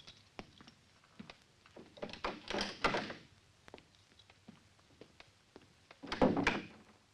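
A door being unlocked and opened in an old gothic house interior, with scattered clicks and rattles, a louder creaking swing midway, and another thud and creak near the end.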